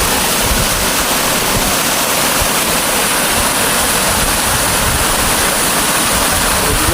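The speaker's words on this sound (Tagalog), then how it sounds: "Ito po yung pinakamalaki na waterfalls nila." A large waterfall roars without a break, a loud, dense wash of falling and flowing water that fills the whole scene with steady, close noise.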